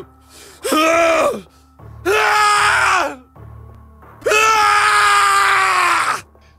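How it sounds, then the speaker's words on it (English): A character in the video game Nine Hours, Nine Persons, Nine Doors screams in rage and despair inside an incineration chamber, three loud, drawn-out anguished cries separated by short pauses, the last one longest. "His scream echoed through the incineration chamber, full of rage and despair."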